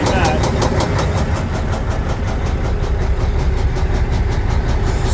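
An old International 9400 truck engine idles roughly, a loud continuous diesel rumble with uneven pulsing beats throughout, close to the microphone.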